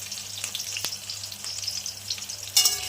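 A boiled egg fries in hot oil until browned, giving a continuous bright sizzle with crackling pops and a louder burst of spatter near the end.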